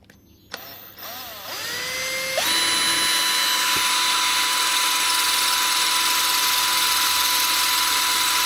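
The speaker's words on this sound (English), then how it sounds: "I'm going to start drilling." A power drill drilling into a lock core whines up in pitch and settles into a loud, sustained high grinding drone, close by, running continuously without speech.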